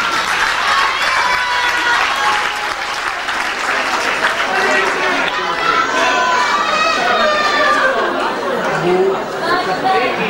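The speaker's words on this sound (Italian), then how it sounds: "Un bel applauso. Un applauso a tutti." An audience at a live stage show applauds as two performers walk on, with steady clapping mixed with lively crowd chatter and voices throughout.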